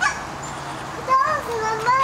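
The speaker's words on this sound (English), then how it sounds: "Those are the little geese." Geese at the Beardsley Zoo give short, high honking calls in bursts, mixed with a child's and an adult's voices nearby.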